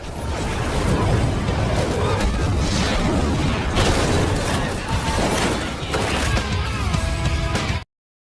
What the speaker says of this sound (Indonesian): aksi baku tembak tak terhindarkan lagi